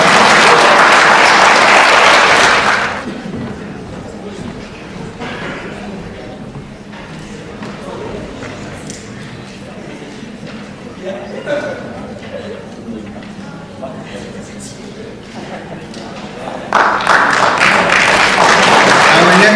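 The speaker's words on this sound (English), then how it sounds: "Let's give a round of applause to Dylan Gambardella." At a high school science fair awards ceremony, a crowd breaks into loud applause, then a person speaks over a hall's quiet murmur before a second burst of clapping rises near the end.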